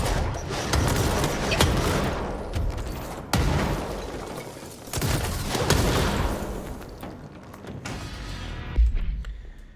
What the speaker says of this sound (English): Nothing like listening to your podcast in the background of grenade explosions.